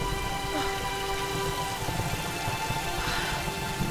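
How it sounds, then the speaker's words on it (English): Rain pours in the video game Tomb Raider, a dense, continuous hiss of falling water with a low rumbling undertone, constant and fairly loud with no speech over it. "Is this a good place to take shelter from the rain?"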